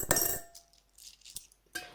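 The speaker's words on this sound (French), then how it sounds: "Je pense le volume sonore de ces pièces qui tombent." Coins drop and clink faintly during a monthly budget envelope tally, in a few brief, quiet metallic chinks spread over two seconds with no voice.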